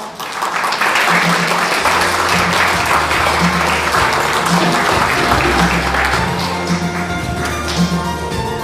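Dense, sustained audience applause fills a Korean art museum event as an artist is welcomed forward, loud and close throughout, with a low hum and faint voices underneath.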